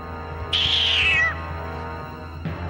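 A cartoon cat from the old Voltron: Defender of the Universe series gives one loud, drawn-out meow that slides downward in pitch, standing alone over a quiet background.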